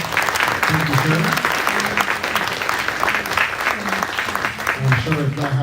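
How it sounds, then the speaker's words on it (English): A round of applause for a state party chairman at a Dorchester County GOP gathering, a dense steady clapping from the audience throughout, with voices and cheers mixed in. "Let's give a round of applause for our state chairman"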